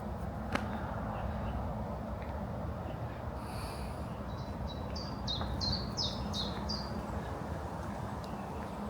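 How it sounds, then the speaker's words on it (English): Birds chirp in short, high repeated notes through a steady, loud outdoor background hum, faint and somewhat distant. "It's lovely to hear the birds down here at lunchtime."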